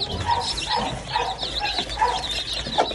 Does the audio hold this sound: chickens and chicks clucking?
yes